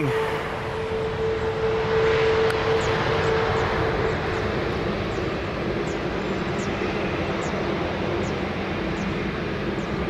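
An airliner landing at Lisbon Airport, heard as a loud, steady jet roar with a sustained engine whine that fills the whole stretch and eases slightly toward the end.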